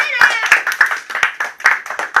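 A small quiz-night crowd at Milton Hall claps for the winning team, a thin patter of distinct hand claps in an uneven rhythm, close and fairly loud, with voices murmuring underneath.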